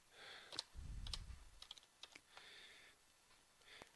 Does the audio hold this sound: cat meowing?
no